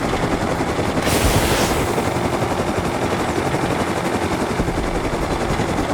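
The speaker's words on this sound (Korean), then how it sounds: "다음으로 미니콥터와 스크랩 헬기에도 플레어가 추가되었습니다." Minicopter in the video game Rust launching flares: a steady, loud rotor and engine drone with a sharp rushing burst about a second in that fades back into the drone. No voices.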